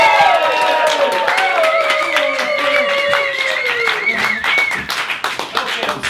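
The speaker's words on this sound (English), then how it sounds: "round of applause for Mr." Audience applause at a stand-up comedy show, loud and steady clapping with whoops from the crowd, with a microphone voice carrying over it throughout.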